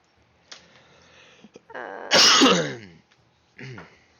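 One loud, sudden sneeze bursts out near the mic during a quiet tabletop game session. Soft throat sounds come just before it and a brief voice follows.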